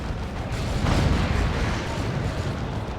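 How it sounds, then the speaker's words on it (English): A Rhino tank wreck explodes in Dawn of War 2, a loud, rumbling blast swelling at about one second amid a steady din of battle noise. "That was just the remains of the Rhino there that exploded."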